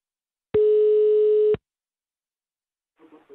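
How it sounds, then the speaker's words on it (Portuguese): A single long telephone ringback tone over a phone line, one steady beep of about a second, loud and alone, followed by silence and the faint start of a voice answering. "Ô, pra Dama, a gente tá ligando só pra saber assim"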